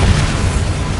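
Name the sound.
Bombarda exploding spell cast in Hogwarts Legacy video game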